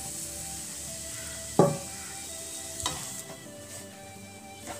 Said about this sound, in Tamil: நம்ம கலந்து வச்சிருக்கிற ரவையும் தேங்காயும் இதில் கொட்டி வறுத்துக்கலாம்